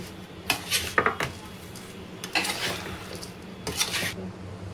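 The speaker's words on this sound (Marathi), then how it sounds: "आपण एका कलथ्याच्या किंवा चमच्याच्या साहाय्याने छान असं मिक्स करायचं आहे जेणेकरून तूप आपल्या सर्व खारीक आणि खोबऱ्याला व्यवस्थित लागेल" Dry dates and coconut stirred in ghee with a spatula in a pan, giving scraping, clinking strokes in three short bursts with quieter stretches between.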